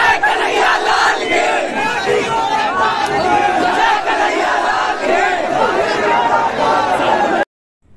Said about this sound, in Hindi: भीड़ है, बता नहीं सकते कितना भीड़ है